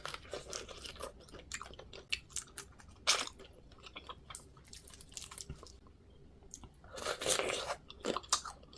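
Close, wet crunching and chewing of spicy mala crayfish, with repeated bites and squishy mastication in an irregular rhythm, heard alone without talk.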